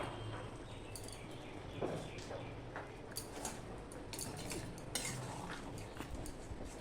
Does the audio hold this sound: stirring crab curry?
yes